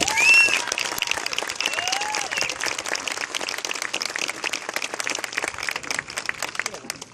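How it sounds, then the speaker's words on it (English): A crowd applauds the 2014 Little League Central umpire crew at a regional opening ceremony, with dense, steady clapping and scattered voices that carry on throughout before easing slightly at the end. "please give a big hand to the 2014 Little League Central umpire crew"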